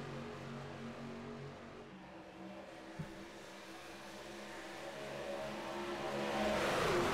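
Race cars drive side by side at a rebuilt Atlanta super speedway in a video game, their engines holding a steady drone that swells louder toward the end with no voices.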